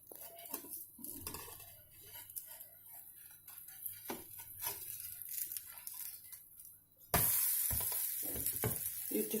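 Uttappam sizzling steadily in a hot pan after being flipped, a soft continuous frying crackle with occasional scrapes and clinks, growing louder and denser near the end.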